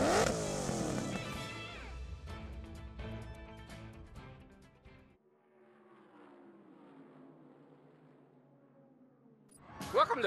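An engine revs hard in the Cars 3 Driven to Win racing video game, a loud rising whine with harmonics that fades into a lower drone before another sharp burst at the end; a voice speaks over it.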